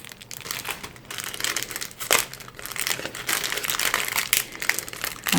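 Plastic packets of small Halloween spider decorations being torn open and handled, continuous loud close crinkling and crumpling with sharper rips scattered throughout.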